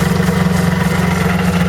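A Yamaha VMax SX 600 triple snowmobile engine idles steadily up close, a loud, even low rumble with a constant throb and no gaps.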